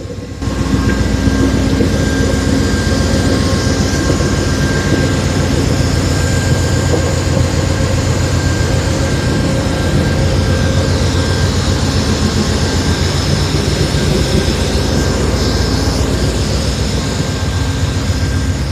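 A loud, steady rumbling drone of an Amtrak train's diesel locomotive idling nearby at a station, with a constant hum and no pauses.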